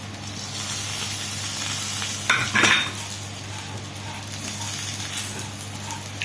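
Sesame seeds toast in a pan over very low heat, a steady soft hiss broken midway by a brief louder scrape of stirring against the pan.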